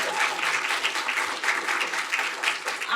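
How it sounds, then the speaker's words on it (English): Audience applause for competing teams at a nanoscience pitch competition finals, a steady, dense clapping that fills the hall for about three seconds without a break. "a round of applause again to all of our teams today"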